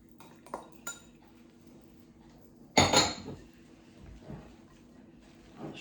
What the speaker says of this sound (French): je mélange bien pour bien mélanger l'oignon et le persil.